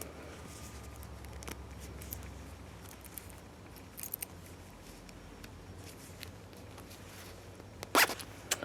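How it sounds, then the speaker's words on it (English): A jacket zipper fitted with a newly replaced slider is worked along its teeth, faint scratchy rasps and small clicks scattered through quiet room tone, ending in a louder, sharp zip burst near the end. "see if it will zip up my jacket"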